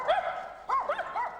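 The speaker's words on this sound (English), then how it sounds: "John Goddard Fenwick excites and confuses his pack of dogs" A pack of terriers at Crufts 1998 in the main arena, excited by a string-pulled racing contraption, gives two loud, close bursts of yapping barks and yips.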